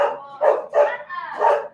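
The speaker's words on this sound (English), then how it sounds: "Dogs are barking." A dog barks four times in a loose rhythm, fairly close and loud, each bark short and slightly hoarse.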